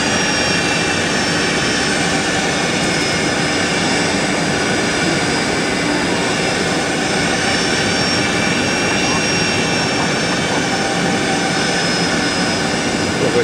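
Fokker 100 jet airliner with an Oceanair livery departing runway 27R at São Paulo Guarulhos, its engines a steady, loud roar with broadband rumble and a faint whine held throughout.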